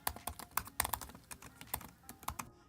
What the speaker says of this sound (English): They did redesign the butterfly mechanism, so it is less angry sounding to type on.